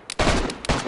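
Close, loud gunfire bursts in the video game DayZ during a military-style operation, several rapid shots crackling one after another with barely a pause.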